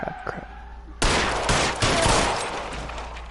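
Gunfire in the L.A. Noire video game: a sudden loud burst of rapid shots kicks in after a quiet second, with dense, sustained shooting that continues to the end, and a faint voice audible early on.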